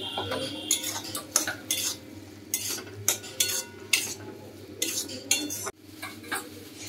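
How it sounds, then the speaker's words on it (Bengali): Potatoes are stirred into a Kashmiri chili masala in a pan, with a spoon repeatedly clinking and scraping against the metal over a steady low background hum. No one speaks. "এই মশলাটার মধ্যে আমি আলুগুলোও দিয়ে দিচ্ছি, যাতে আলুগুলো ভালো করে সেদ্ধ হয়ে যায়।"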